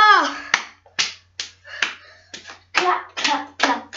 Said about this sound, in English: Now he clapped to the mirrors.